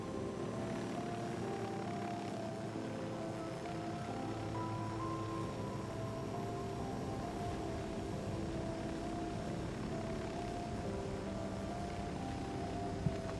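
A helicopter in a video game drones steadily with a low, even engine hum and rotor whine, heard alone at moderate distance.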